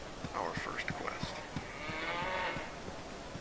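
Cows mooing in the Baldur's Gate video game: a long, low lowing moo swells in the middle, with game footsteps and soft ambient sounds around it and no talk over it.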